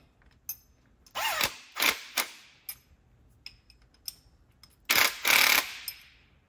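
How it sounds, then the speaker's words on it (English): A nut spun onto a bolt on a free-wheeling hub gives close, dry ratcheting clicks in two bursts, a run of separate clicks early on, then a louder cluster near the end, with quiet pauses between. "So I want to spin this nut up."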